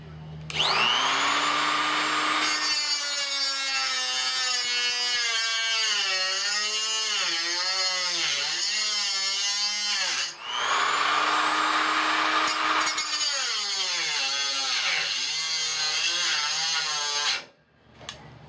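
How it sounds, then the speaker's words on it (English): Angle grinder cutting and grinding sheet metal on the rear quarter panel of a 1970 Mustang Mach 1, a loud continuous whine that rises and dips in pitch under load, briefly pausing midway, then cutting off abruptly near the end. "I tripped the reset on it because I was grinding too hard."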